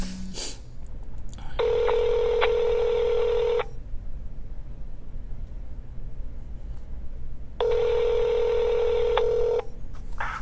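Two bursts of rapid telephone keypad tones, each lasting about two seconds, separated by a quiet pause with faint background noise, dialing a mechanic.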